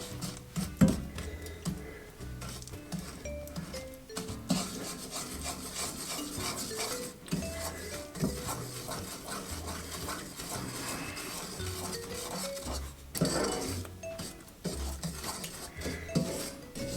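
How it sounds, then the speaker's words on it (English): Ghee being stirred into a thick peanut chikki mixture in a pan, with steady scraping and rubbing of a utensil against the pan and occasional sharper knocks, close and continuous with no talking. "We're going to stir that in."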